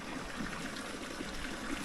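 A river flows behind San Jose church in Batangas, its steady, soft babbling and trickling continuous and fairly faint, heard alone without voices.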